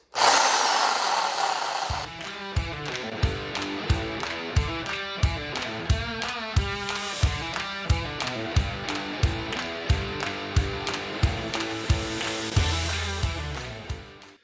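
A power saw cuts through exhaust nuts on a Ford Escape, a loud burst at the start followed by a long series of regular, rhythmic strokes grinding through the metal.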